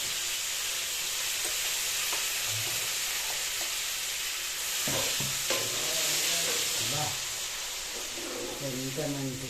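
A steady sizzle of sorrel-leaf chutney frying in a tempering in a pan runs throughout, with a few scrapes and faint bird-like chirps or voices partway through.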